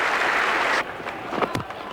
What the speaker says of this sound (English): a standing ovation from the Adelaide crowd